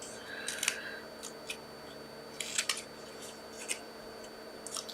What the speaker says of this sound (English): our top greeting, which is here, and just going to cut that.